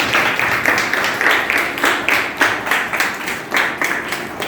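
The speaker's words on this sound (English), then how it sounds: "a big round of applause for the teachers" Audience at a school awards ceremony clapping for teachers, with many people clapping in a roughly steady, pulsing rhythm, moderately loud and reverberant, with a faint murmur underneath.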